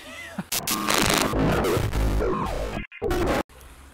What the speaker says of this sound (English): This cat is what just appeared